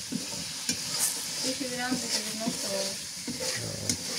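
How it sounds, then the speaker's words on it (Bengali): A spice paste sizzles and fries in a pan while it is stirred and scraped, with intermittent clinks of a spoon against the pan over a close, continuous sizzle. "মশলা কষানো হয়ে গেছে"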